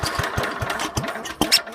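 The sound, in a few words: Troy-Bilt tiller engine pull start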